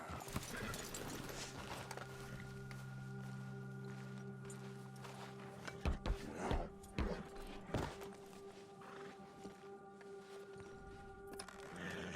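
A horse in Red Dead Redemption 2 clip-clops along with hooves thudding in an uneven walking rhythm, loudest in a brief cluster midway, over a sustained musical drone.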